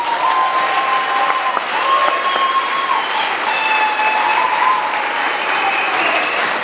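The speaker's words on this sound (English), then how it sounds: "a round of applause for these students" Loud, steady applause from a crowd at a small school's 2013 commencement for graduating students, a dense continuous wash of clapping with a few whistles and cheers rising over it.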